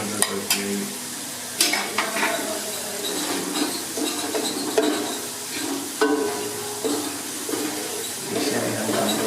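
Okra frying with ground Kashmiri red chilli is stirred in a pan, with a steady sizzle punctuated by repeated scraping strokes and clinks of the spoon against the pan.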